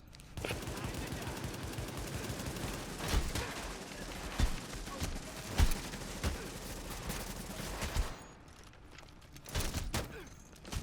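Enemy gunfire in The Division video game during a power plant challenge mission, with steady automatic fire and several heavier punchy shots standing out, people talking beneath the din.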